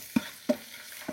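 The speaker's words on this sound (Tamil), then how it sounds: "200 பூண்டு உரிச்சது, 250 இஞ்சி, ரெண்டையும் சேர்த்து அரைச்சதை நான் இப்போ போட போகிறேன்." Ground garlic and ginger paste hitting a pan for fish biryani, heard as three short, distinct stirring scrapes with a faint sizzle between them.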